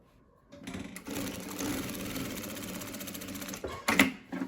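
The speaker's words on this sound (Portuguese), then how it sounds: "vou fazer aqui, ó, uma costura reta. Dando retrocesso no início e no final." A sewing machine stitching a straight seam, a quiet start, then a steady close mechanical whir for about three seconds, briefly pausing and bursting again near the end.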